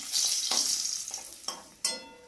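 Eggs frying in oil for a Bengali village-style egg curry: a steady close sizzle and hiss, broken by a few sharp clinks of a utensil against the pan.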